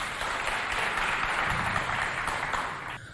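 An audience at a cultural centre event applauding loudly, a dense, sustained burst of clapping that fades slightly at the close.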